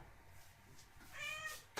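A pet cat gives a short, close, slightly nasal meow near the end of a quiet indoor stretch, followed by a brief soft thump.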